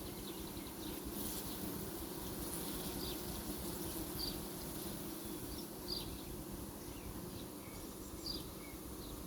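Honey bees fan over hive frames full of nectar, making a dense, continuous buzz with individual bees flitting past close by.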